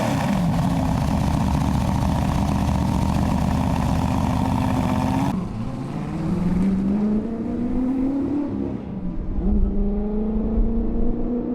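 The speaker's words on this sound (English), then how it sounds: "The Ford GT40." A Ford GT40 race car engine roars loudly and steadily, then the pitch dips and climbs again through gear changes as the car keeps accelerating.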